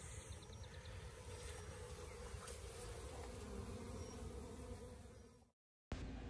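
Honeybees swarm during a hive cutout and removal, a dense continuous buzzing drone close by with occasional louder passes of single bees, dropping briefly to silence near the end.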